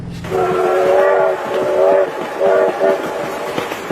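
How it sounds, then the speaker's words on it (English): A train sounds its horn in several loud, close blasts: one long note followed by shorter bursts, over a rumbling rail background. "train!"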